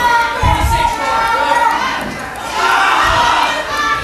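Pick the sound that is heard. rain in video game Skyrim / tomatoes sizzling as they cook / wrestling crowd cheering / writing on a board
wrestling crowd cheering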